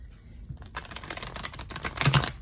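Large tarot cards being shuffled by hand, soft papery riffles and clacks building in bursts, quiet at first and getting louder toward the end, with no talking.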